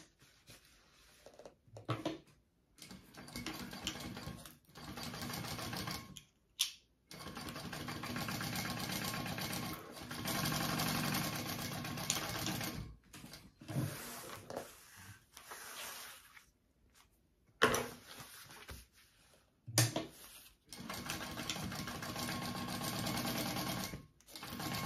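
A sewing machine basts the sides of a handbag together, running in long loud stitching bursts broken by short pauses, close up with no talk.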